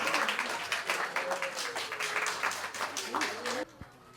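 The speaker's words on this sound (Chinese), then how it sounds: "掌声" A crowd claps at a children's graduation ceremony in a forest-kingdom-themed party, a sustained burst of rapid, dense applause that stops abruptly near the end, with a voice and faint tones underneath.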